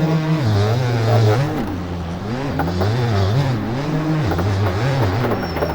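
A motocross bike engine in MX Bikes at the Unadilla track revs and bogs continuously, its pitch rising and falling with throttle changes, loud and close throughout.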